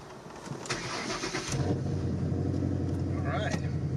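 An old Ford Mustang engine cranks briefly and then catches, settling into a loud, steady, rumbling idle close by, with a voice speaking over it.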